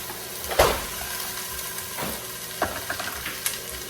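Diced onion, carrot and celery sofrito sizzling softly in a pan. A steady frying hiss is broken by a few sharp crackles and stirring scrapes, and no one speaks.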